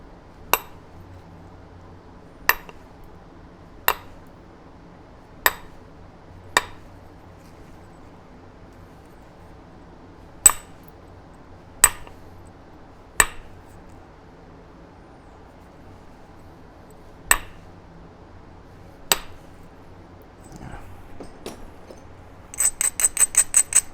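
A Burlington chert preform is trimmed into a Hardin point by flintknapping: about ten sharp, isolated clinks of stone striking stone, spaced unevenly by quiet pauses, then a quick run of lighter rapid taps at the end.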